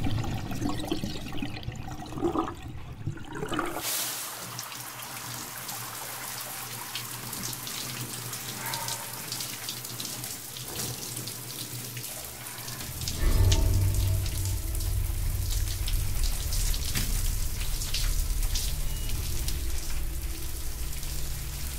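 A shower runs in a home bathroom with a steady, hissing spray of water. It stays fairly quiet at first, then grows louder and fuller about halfway through as the flow strikes a surface, continuing alone without talk.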